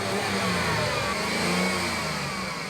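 A car engine revved remotely by a small motor pulling the accelerator cable, producing a loud, sustained rising and falling rev.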